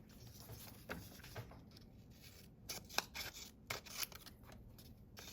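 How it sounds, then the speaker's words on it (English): New, slightly stiff scissors snip through a piece of scrap paper, giving a quiet series of crisp cuts and rustles at close range, with no speech. "Let's test it out on some paper."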